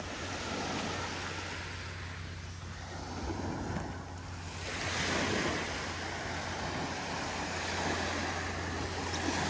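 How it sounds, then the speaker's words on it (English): Ocean surf rolls onto the beach at Seaside, Florida on a cool February morning, a steady, full wash of breaking waves with some wind noise, rising slightly in the second half and with no voices. "this is the beach here at Seaside"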